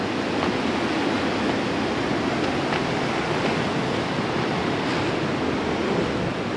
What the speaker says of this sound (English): Bali really does have some beautiful, beautiful beaches